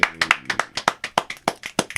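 Brisk, rhythmic hand clapping, about a dozen sharp, close claps in two seconds, with no talking over it.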